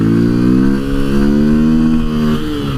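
A 2023 XR-150 motorcycle revs hard during a wheelie, the engine note climbing and holding loudly nearby, then dipping slightly toward the end, with no speech.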